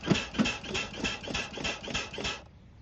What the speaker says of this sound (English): You can hear the compressor in the background.